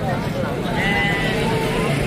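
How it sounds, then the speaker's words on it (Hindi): A goat with kids bleats at a busy livestock market in Dera Ghazi Khan, its calls rising over a steady crowd murmur and nearby talk. "और ये बच्चों वाली बकरी"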